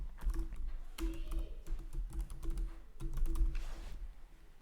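A website URL is typed on a computer keyboard, with quick, close key clicks in uneven bursts and short pauses over a faint room hum.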